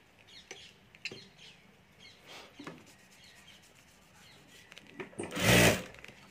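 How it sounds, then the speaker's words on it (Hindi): A sewing machine stitches fabric laid with plastic lamination for a ladies' wallet: faint, scattered mechanical clicks and taps, then a short, loud burst of rapid stitching near the end. "तो यहाँ ऊपर मैं चारों तरफ सिलाई कर देता हूँ।"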